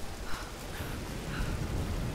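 Rain and thunder in the Tomb Raider video game: a steady, dense hiss of rainfall with a low rumbling underneath, continuous and even, with no voices.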